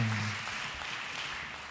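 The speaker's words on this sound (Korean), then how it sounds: "감사와 영광의 박수 올려드립니다." Church congregation applauding during a Korean worship service, a steady wash of clapping from many people at moderate loudness throughout, with no voices standing out.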